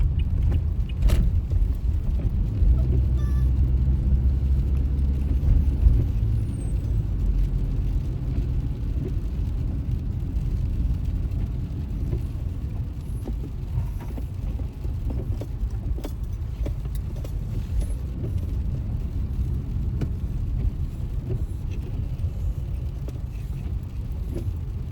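Miss Lily, a vehicle with climate control, keeps up a steady low engine drone while driving along, its rumble holding constant and fairly loud with faint rattles on top and no talk.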